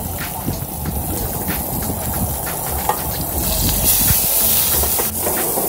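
Butter sizzles loudly in a hot pan while mangrove snapper is cooked on a beach, a steady close hiss that swells slightly toward the end with a few faint knocks and no talking.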